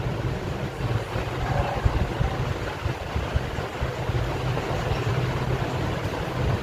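A sewing machine stitches a fabric belt onto a blouse piece, giving off a steady motor hum with fast, even needle chatter that runs without a break and with no one talking.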